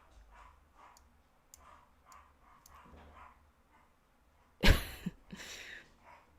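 A dog barks once, sharp and loud, near the end, with a couple of shorter yelps after it. Faint ticking and clicking room noise fills the quiet stretch before.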